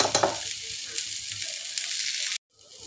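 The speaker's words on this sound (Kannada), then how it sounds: "ಈಗ ಈರುಳ್ಳಿ ಸ್ವಲ್ಪ ರೋಸ್ಟ್ ಆಗಿದೆ" Onion roasting in a pan for chana masala, a close bright sizzle with stirring scrapes that runs steadily, then cuts off abruptly before resuming faintly.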